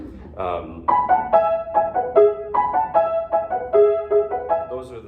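Bright piano phrases repeat short fanfare-like figures in a steady rhythm, mimicking hunting horn calls, each note ringing clearly with a resonant decay.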